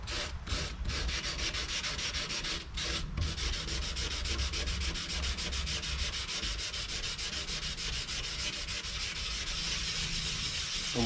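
Steady, continuous hand sanding of a car headlight with P500 sandpaper, a rhythmic scratchy rubbing back and forth over the hard surface, close and even throughout.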